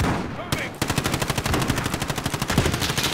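Rapid automatic gunfire in the Call of Duty video game, a loud, steady burst of closely spaced shots preceded by a couple of single shots, with faint voices underneath.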